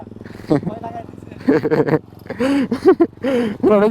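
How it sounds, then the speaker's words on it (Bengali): A modified Bajaj Discover motorcycle with a cut silencer idles with a steady, low, rumbling drone that runs beneath close, continuous conversation. "এই হচ্ছে আমাদের মডিফাই করা বাইক"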